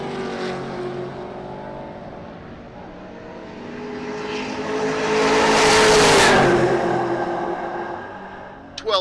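A 1970 Suburban with a blown big-block engine launching at a drag race at Great Bend, Kansas, a loud roaring surge that swells to a peak as it passes and then fades down the track.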